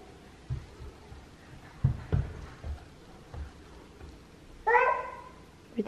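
A cat gives a single short meow near the end, faint against a quiet indoor room with soft scattered thumps and handling noises before it.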